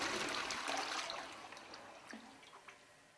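A Caroma Sydney Smart 270 dual-flush toilet flushing, a loud broadband rush of water that fades over about three seconds into trickling and a few drips.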